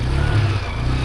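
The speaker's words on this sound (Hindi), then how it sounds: "अब स्टार्ट करते हैं गाड़ी" A motorbike engine starting up and idling on a cold, snowy trail, a steady low rumble with some revving throughout a brief moment.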